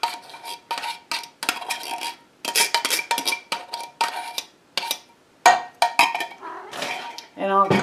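A spoon clinks and scrapes against a bowl while shepherd's pie filling is stirred together with soup, in a string of irregular, close-up strokes separated by short pauses.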